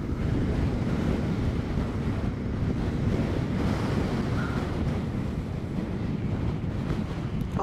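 Strong, steady wind roars across the microphone in Thomson Gorge, New Zealand, a dense continuous rush with no pauses and no voices.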